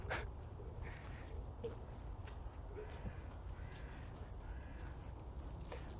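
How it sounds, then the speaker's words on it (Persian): Birds call in Eram Garden in Shiraz: several brief, fairly distant chirps and caws scattered over steady outdoor background noise, with no talk over them. "من نمیدونم تو میکروفونم صدای پرنده ها رو میشنوید یا نه؟ چه چهی میزنن ها."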